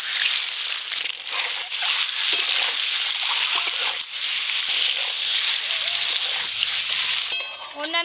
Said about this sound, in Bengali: মশলা মাখানো ডিমগুলো এবার ভেজে নেব।